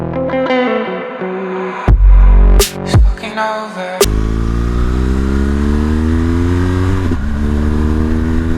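A 2017 BMW R1200 GS Adventure motorcycle under way, its engine note climbing through loud revving acceleration, a sharp break around a gear change, then a steady rising drone close to the microphone, with no talk.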